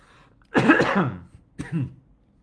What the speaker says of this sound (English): I'm sorry, I have to cough again